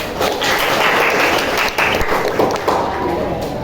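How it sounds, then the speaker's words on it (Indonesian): Classroom clapping as students applaud together, a dense continuous patter of many hands lasting a few seconds with some voices mixed in. "Tepuk tangan."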